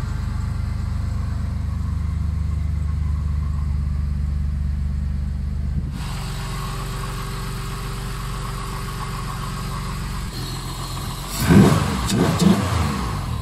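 A Mazda 929 V6 engine, naturally aspirated, runs steadily at idle with a deep, rumbling drone, shifting in tone partway through before a few louder bursts near the end.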